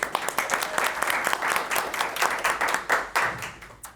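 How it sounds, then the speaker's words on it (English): An audience gives a round of applause at a pop-culture panel event, a dense patter of many hands clapping with distinct individual claps standing out, steady then swelling slightly toward the end. "Let's give them a round of applause, please."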